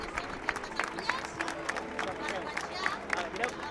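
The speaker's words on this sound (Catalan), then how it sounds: "Aplaudiments del públic." Spectators applaud the women's winners on the podium at the Granollers half marathon, a moderate, somewhat distant patter of clapping mixed with crowd murmur and a voice over a loudspeaker.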